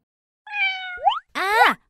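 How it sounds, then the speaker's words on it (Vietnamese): A cat gives two clear, close meows in quick succession, the second sharper and rising, with silence before and between them. "Con mèo."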